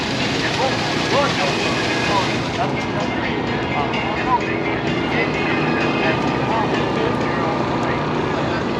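Airplane flying at the 2021 Cleveland air show, a continuous broad roar filling the whole stretch, with a public-address announcer talking over it.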